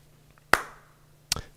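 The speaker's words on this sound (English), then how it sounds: "Good, one clap." A single sharp hand clap rings out clearly, followed by a second quicker, fainter smack a moment later, against a quiet room background.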